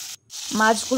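Hot oil sizzles and crackles briefly as rohu fish belly pieces fry lightly, with a short gap, while a voice speaks over the frying.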